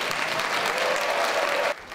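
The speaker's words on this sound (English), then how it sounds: "Round of applause." Steady, dense applause from family and friends packed into an assembly hall at a Fulton County judge's swearing-in ceremony for new Georgia Bar members, loud and continuous before cutting off sharply near the end.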